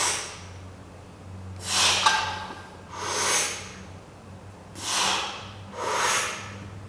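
A weightlifter draws deep, hissing breaths while setting up under a bench press bar, with four broad, airy inhale-exhale bursts in a steady rhythm, close to the listener over a low room hum.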